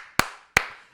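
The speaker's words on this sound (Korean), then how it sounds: "부캐넌에게 박수를 한번 쳐드리겠습니다." Two sharp hand claps about a third of a second apart, close and fairly loud, given by a Korean baseball commentator in a studio to honor Samsung Lions pitcher Buchanan after his second straight 15-win season.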